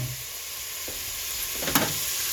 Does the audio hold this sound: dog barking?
no